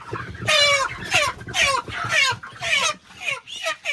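Chickens cluck and squawk in a rapid, overlapping series of loud, close calls, with no one talking.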